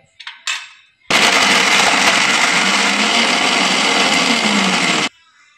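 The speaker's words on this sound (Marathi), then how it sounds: "टाकून छान मिक्सरमधून बारीक करून घेऊया।" A kitchen mixer grinder roars loud and steady for about four seconds while grinding soybeans with garlic, green chillies and cumin, preceded by a few short clattering taps and ending abruptly.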